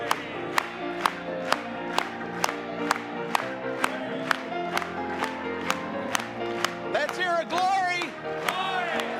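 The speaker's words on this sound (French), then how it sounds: "Acclamons pour lui ce soir." A French-speaking gospel church congregation claps in a steady, even rhythm alongside singing and music, with a few whoops rising near the end.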